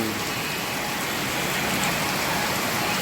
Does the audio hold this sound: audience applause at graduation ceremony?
no